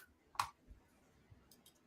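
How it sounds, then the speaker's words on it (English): A computer mouse being clicked three times in quick succession gives a brief, sharp cluster of clicks, quiet and close, followed by a few fainter taps against low background noise. "I'm triple clicking."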